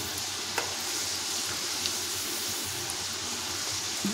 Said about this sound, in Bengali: 2 মুঠো করে ডাল আমি তেলের মধ্যে ছেড়ে দিচ্ছি, আর হাই ফ্লেমে এটা ভাজতে হবে।